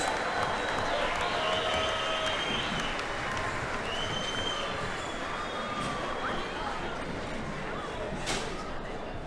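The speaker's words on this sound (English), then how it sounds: "Come on, give them a round of applause." A crowd at the 2023 Open Shearing Final applauds steadily throughout, a dense wash of clapping and cheering with a few whistles mixed in, heard at a moderate level.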